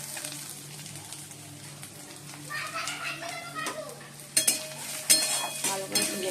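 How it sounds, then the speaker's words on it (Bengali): Coconut pieces fry in oil that already holds cumin and dried red chillies. A soft sizzle sits under faint background voices, with a few sharp utensil scrapes and clinks toward the end. "এবার নারকেলগুলো ভালো করে ভেজে নেবো।"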